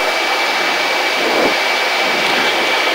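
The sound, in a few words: jet aircraft engine thrust during takeoff roll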